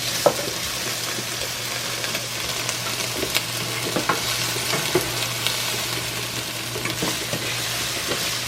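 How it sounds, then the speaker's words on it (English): Onion sautéing in a pan for Jamaican-style cooking, a dense steady sizzle with scattered stirring clicks and scrapes, close and continuous, no talking. "So I'm gonna let the onion saute."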